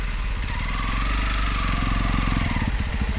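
A motorcycle engine drones steadily and close on a winding hill road between Ambewela and Pattipola, with a rough low rumble and rushing wind noise throughout.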